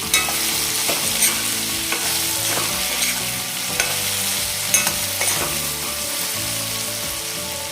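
Raw mango mixture being stirred in a hot pan, the spoon scraping and turning the sizzling fruit in repeated sweeps over a steady frying crackle, close up with no voices.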